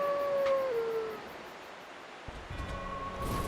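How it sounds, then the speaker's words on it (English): Great Grey Wolf Sif in the Dark Souls video game lets out a long, loud, falling howl at the start of a boss cutscene. Game ambience and music follow, with no talking. "Oh, it's a wolf."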